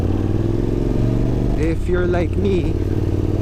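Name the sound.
Yamaha Tenere 700 motorcycle riding in traffic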